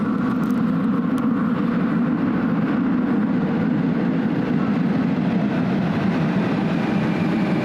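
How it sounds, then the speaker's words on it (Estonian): A steady low rumble of a train drawing nearer near the Corinth Canal, Greece, continuous and fairly loud with broad mechanical noise throughout, no voices. "See on läheneva rongi heli."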